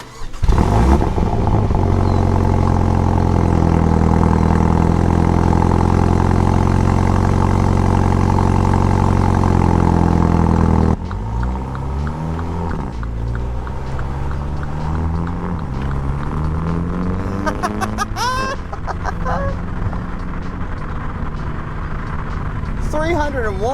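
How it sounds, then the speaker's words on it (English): A 301-horsepower 2020 MINI JCW Clubman's engine under way, a loud, steady drone for the first half, then shifting revs that rise and fall as the car accelerates and changes gear, sounding close and continuous. "we are taking this car out for a drive, and we're gonna make sure you can hear it"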